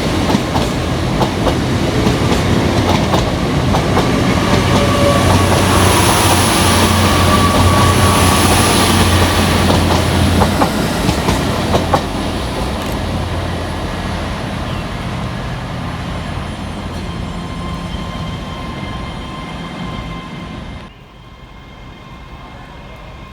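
Class 800 train 800-102 passes through Edinburgh Haymarket station on a London King's Cross to Aberdeen service, a loud sustained rumble with clattering wheels and a high whine that eases off and ends abruptly near the finish.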